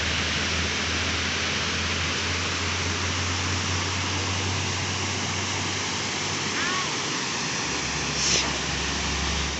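Rushing river water near a waterfall, a steady loud broadband roar filling the whole clip, with a few faint chirps and a brief splash-like burst near the end.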